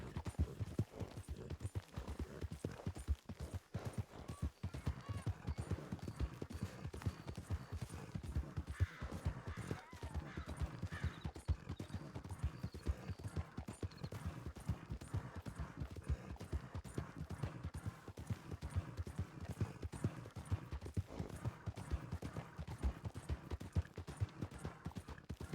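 Horse hooves clip-clop at a steady riding pace, a continuous run of close, fairly quiet hoofbeats with an occasional faint snort, and no talk.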